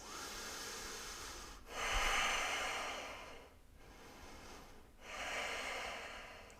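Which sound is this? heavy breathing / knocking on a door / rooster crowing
heavy breathing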